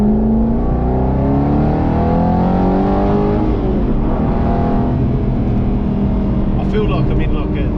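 An Aston Martin Vantage GT8 V8 pulls hard from the cabin, its engine note climbing steadily and loudly through the gears in a continuous, racing-car-like drone, with brief talk near the end.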